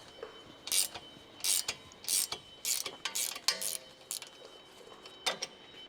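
A ratcheting wrench clicks in short bursts while the ball joint separator is removed from the front control arm of a 2013–2019 Ford Fusion, with crisp, close, metallic ratchet sounds in a quiet workspace.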